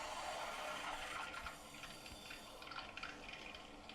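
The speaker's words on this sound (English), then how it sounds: "You can hear your water turning back on. It's filling the tank on the toilet." Water rushes steadily into a toilet tank after the supply is turned back on during a bidet seat installation, a soft continuous hiss and gurgle at low volume with no talking.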